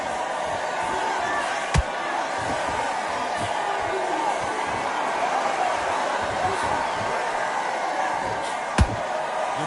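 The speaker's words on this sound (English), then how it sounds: "Crowd here cannot wait. They've been buzzing all day long" Crowd buzzing at a fighting event before a bout, a steady, loud murmur of a large audience with a couple of sharp thuds standing out above it.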